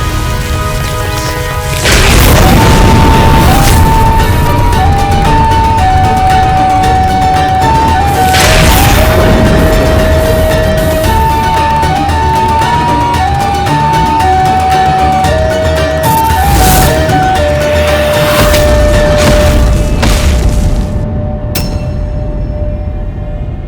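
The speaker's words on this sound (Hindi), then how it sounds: "ये विस्फोट" A loud booming blast erupts in a mythological TV drama, followed by rumbling crashes and whooshes beneath sustained dramatic music that plays throughout.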